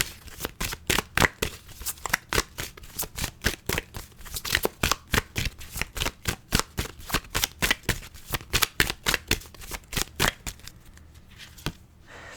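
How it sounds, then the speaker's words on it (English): Rapid, steady riffling of a Zodiac oracle card deck being shuffled close up, a long run of crisp card flutters that slows and softens at the end. "I'm going to pull you 3 cards from the Zodiac deck."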